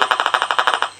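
A home-made metal detector gives rapid, evenly spaced electronic ticks, about a dozen bright pulses in one second, loud and close with nothing else around them.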